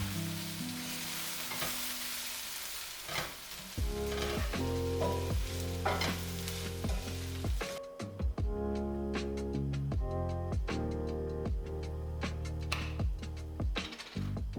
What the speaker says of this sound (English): Then I add the soy granules, the TVP, toast them a little with the seasoning.